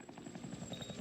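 A helicopter in a video game flies overhead, its rotor thudding in a fast, steady pulse with a high whine above, loud and close throughout the brief moment.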